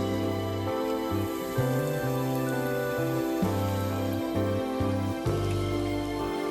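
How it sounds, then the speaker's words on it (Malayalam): Oil poured over a dosa on a hot pan gives a soft, steady crackling sizzle under louder background music with shifting tones. "ആ ദോശയുടെ മുകളിലേക്ക് നമ്മൾ ഓയിലങ്ങോട്ട് ഒഴിച്ചു കൊടുക്കാം. അപ്പോൾ അവൻ അവിടെ കിടന്ന് അങ്ങോട്ട് മൊരിയാനായിട്ട് അങ്ങോട്ട് തുടങ്ങും."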